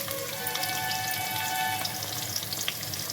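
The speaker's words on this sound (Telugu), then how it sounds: "తాలింపు దినుసులు వేగుతూ ఉన్నాయనగానే వెల్లుల్లి పచ్చగా దంచుకొని వేసుకోవాలి" Steady crackling sizzle of spices frying in hot oil, continuous and close, with a faint tonal hum in the background.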